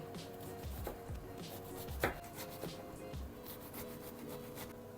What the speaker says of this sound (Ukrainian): ми будемо різати капусточку. Ось так і такими от смужками.